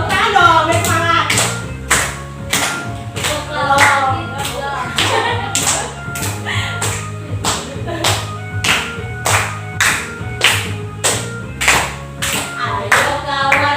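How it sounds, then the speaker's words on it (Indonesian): Schoolchildren in a class clap hands in time with a song about units of length, sharp rhythmic claps over music with a sung voice, keeping a regular beat throughout. "Tepuk tangan dong, biar semangat."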